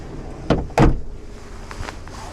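A sleeper room door on an Amtrak Empire Builder train slides shut with two quick thuds close by, followed by faint rattles in a quiet cabin.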